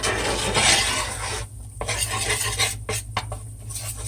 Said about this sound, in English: make sure you see why you have to stir it from the bottom, because if you don't stir this from the bottom, it will burn on you